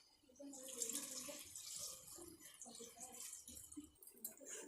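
Water is poured into a pressure cooker while making okra (vendakkai) sambar, a soft, continuous splashing and gurgling that runs for several seconds and is heard faintly and close by.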